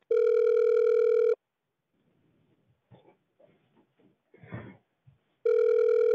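Telephone line tones on a call being transferred to a mobile operator, a steady loud tone at the start and again at the end, with faint rustling and muffled sounds in the quiet gap between them.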